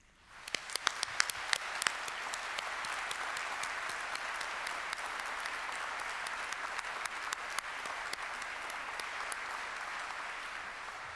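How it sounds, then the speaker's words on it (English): Sustained applause from a graduation ceremony audience honouring medical, nursing and health sciences graduates, a dense steady wash of many hands clapping that swells quickly and holds evenly for several seconds, with a few sharper individual claps standing out. "I now ask the members of the audience to applaud your accomplishments."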